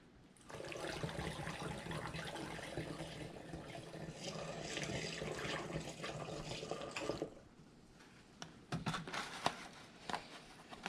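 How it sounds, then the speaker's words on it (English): Water pours steadily through a funnel into a jug for several seconds while making blueberry mead, then stops, followed by a few scattered clinks and knocks. "we'll go ahead and add some more water"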